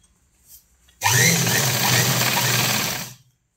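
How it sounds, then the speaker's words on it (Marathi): A sewing machine runs a continuous press stitch along the side seam of semi-Patiala pants, a steady loud whirring burst of about two seconds that starts abruptly and stops, with quiet before and after. "प्रेस शिलाई मारून घेऊ पूर्ण साईडला"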